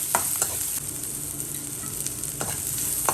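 Onions fry in a pan for pappadam mezhukkupuratti with a constant close sizzle, broken by a few scraping stirs of a spoon against the pan.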